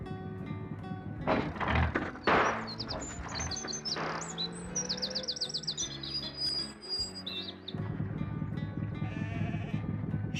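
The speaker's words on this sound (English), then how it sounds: "Sheep." Sheep bleating over music and bird chirps in a children's read-along special, with a few loud bleats near the start standing out from the busy background.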